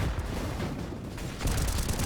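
Automatic rifle fire spraying through a smoke grenade in a Counter-Strike-style shooter match, a steady dense rattle of shots with a sharper, louder burst near the end and no voices over it.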